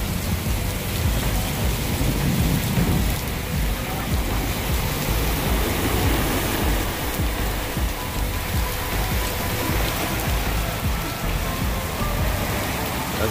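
Heavy rain pours steadily in Puerto Vallarta, a loud, dense hiss with low rumbling thunder rolling beneath it, continuous throughout and close.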